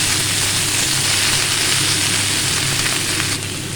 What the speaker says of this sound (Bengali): সবজিটা দিয়ে দিলাম সবজিটা একটু ভেজে নেবো কষিয়ে নেবো